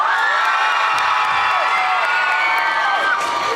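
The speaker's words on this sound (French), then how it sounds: "on crie bien fort à l'applaudimètre" A cosplay contest crowd yells and cheers at full volume, a dense wall of shouting voices with a few higher whoops rising through it, sustained without a break.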